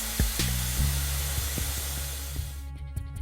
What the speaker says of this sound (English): Carefully loosen the compressed air line on the suspension strut until you hear the sound of air escaping.